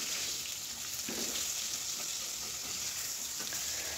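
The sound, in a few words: fish frying in hot oil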